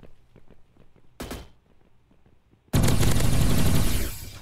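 Gunfire in the Roblox shooter Energy Assault: a short burst of shots, a pause, then a loud sustained stream of rapid automatic fire, with faint quieter clicks and shots before.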